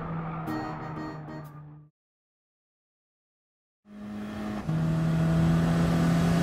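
Engines of an Audi TTS Coupé and a Subaru WRX race in Gran Turismo Sport at Fuji, a loud, steady engine drone that cuts to silence for two seconds, then returns as a louder, climbing rev.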